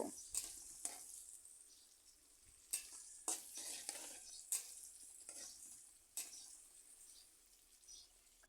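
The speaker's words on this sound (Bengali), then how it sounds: "এবার আমি পেঁয়াজ কুচি কাঁচামরিচ একটু লাল করে বেজে নেব" Chopped onion and green chili fry in oil in a pan with panch phoron, a soft quiet sizzle broken by several crisp stirring scrapes and clinks of a spatula against the pan.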